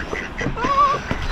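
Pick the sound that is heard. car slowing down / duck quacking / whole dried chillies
duck quacking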